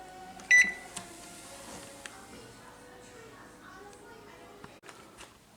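An oven runs at 150 degrees with warped vinyl records heating inside, giving a steady low hum with a short louder clatter near the start and faint scattered clicks.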